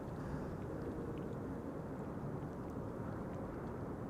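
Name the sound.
Cargolux cargo airplane arriving at Amsterdam Schiphol Airport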